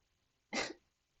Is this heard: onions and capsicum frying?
no